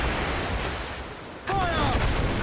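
Ship cannons boom in a naval battle in Assassin's Creed IV: Black Flag, a heavy rumbling barrage that swells sharply midway, with shouted crew voices over the blasts.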